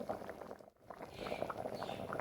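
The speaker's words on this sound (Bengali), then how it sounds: "এবার হাই ফ্লেমে বেশ কয়েক মিনিট এটাকে ফুটিয়ে নিচ্ছি" Taro curry boiling hard on a high flame, a faint close bubbling and popping with a brief lull partway through, no voices.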